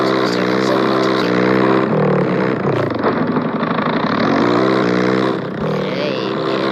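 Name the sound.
motorcycle engine running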